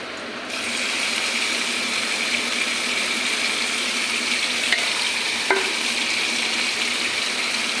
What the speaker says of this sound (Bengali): কিসকি মাছটা আমি কড়াইতে দিয়ে দেবো